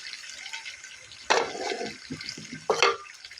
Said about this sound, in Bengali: তারপরে ঝোলের পানি দেবো।